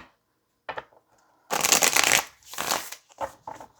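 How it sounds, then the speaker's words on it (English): A deck of tarot cards is shuffled close up in several quick riffling bursts separated by short pauses. "Do I need to shuffle this deck again"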